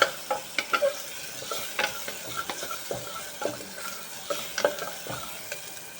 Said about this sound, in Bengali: এই যে রসুন আর পেঁয়াজটা দিয়ে দিলাম, এবার একটুখানি নেড়ে চেড়ে নেব।